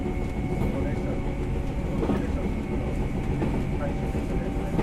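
The JR KuMoHa 123-1 electric railcar, built in 1978 as the Mini Eco, makes its final run between Tatsuno and Shinano-Kawashima. A steady interior running rumble with a sustained motor whine continues throughout, under faint voices.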